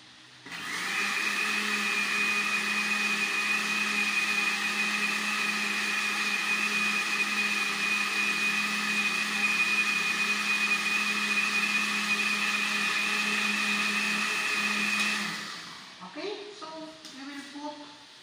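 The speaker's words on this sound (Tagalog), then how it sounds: "the ingredients are put in the blender and we will blend it" A blender mixing red wine vinaigrette ingredients runs steadily with a loud, even motor whine for about fifteen seconds, then winds down and stops.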